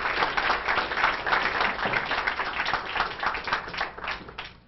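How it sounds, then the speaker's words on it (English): Audience applause after a talk, a full, continuous wash of many hands clapping at moderate volume, swelling and easing slightly throughout before trailing off at the end. "We are now open for applause and questions in that order."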